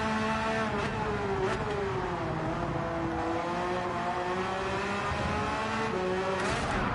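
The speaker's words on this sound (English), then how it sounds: "I'll rev it right out, whether that's right or wrong" A Porsche engine in Gran Turismo 7 revs high and holds near the limit, its pitch climbing and dipping through shifts, loud and sustained with faint tyre noise.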